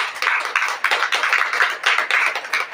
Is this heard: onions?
no